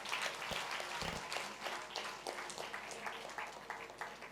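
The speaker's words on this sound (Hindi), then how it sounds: "जोरदार तालियां।" An audience at a religious katha gathering gives a round of applause during a vote of thanks, faint, fairly distant clapping with a rough, irregular texture lasting a few seconds.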